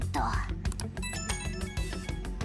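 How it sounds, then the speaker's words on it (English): A phone ringing in the video game Persona 5 Royal, bright repeated electronic ring tones over game music and effects, loud and close, lasting a couple of seconds. "Oh, we got a phone call. Who's ringing?"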